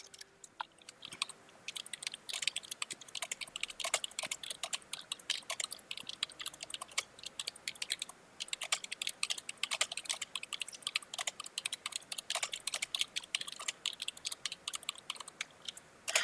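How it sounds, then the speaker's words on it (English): Rapid, clacky keyboard typing goes on steadily, loud and close, with uneven bursts of keystrokes and no talking. "cue the clanky-ass loud keyboard"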